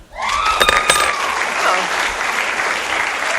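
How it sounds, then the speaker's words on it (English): A school awards assembly crowd bursts into loud, dense applause and cheering that holds steady throughout, with a few whistles or shouts rising above the clapping near the start. "Brought a cheering crowd with him, I see."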